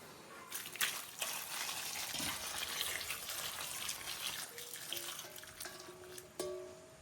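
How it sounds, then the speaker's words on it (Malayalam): Boiling water is poured from a vessel over raw chicken feet, a close, steady gushing splash with a few metallic clinks and knocks of the pot near the end. "വെള്ളം തിളച്ചിട്ടുണ്ട്, അതിലേക്ക് നമുക്ക് പാർന്നു കൊടുക്കാം"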